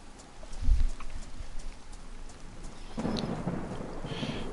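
Thunder from a lightning strike rolls through a rainy DayZ landscape: a deep, close boom hits early, then a second rumble swells and lingers under continuous rain.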